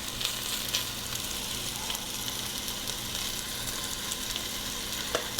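Pieces of beef brown for a stew in a pot, giving a steady, even sizzle and crackle with occasional small pops, continuous and alone with no voices.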